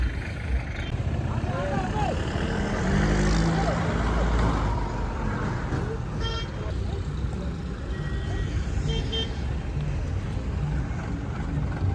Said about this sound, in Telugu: ఎర్లీ మార్నింగే ట్రాఫిక్ జామ్ అయింది ఇక్కడ